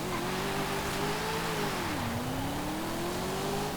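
A 2022 Cadillac CT5-V Blackwing launching down a drag strip in Forza Horizon 5, its engine note climbing steadily, dipping briefly at a gear change, then rising again in one loud, continuous run.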